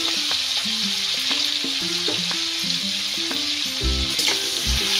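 Potatoes frying in oil in a home kitchen after cauliflower was fried, a loud continuous sizzle with scattered utensil clinks and taps against the pan throughout, close and without any voices.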